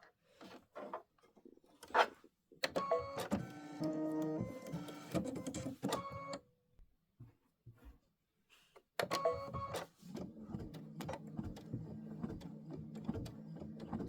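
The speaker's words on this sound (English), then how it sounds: "This is 3 minutes of stitching. It's going to stitch all that fun stuff." An Aveneer embroidery machine stitches a Halloween tile design on a 6x10 hoop with bursts of rapid, rhythmic mechanical whirring, broken by short pauses and clicks, then a longer continuous stitching run, fairly quiet and close.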